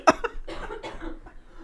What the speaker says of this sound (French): Vous toussez les deux, franchement.